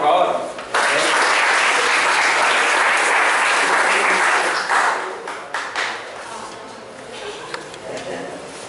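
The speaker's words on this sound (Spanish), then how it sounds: "Un fuerte aplauso, por favor." A crowd gives a strong round of applause at a closing ceremony, dense loud clapping for about four seconds that then thins into scattered claps and fades, with some voices at the end.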